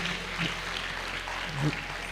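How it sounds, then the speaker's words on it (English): An audience gives applause at a youth opportunity summit in Katsina State, with moderate, continuous clapping and a faint voice underneath. "Please, I need you to escort him back to his seat with an applause."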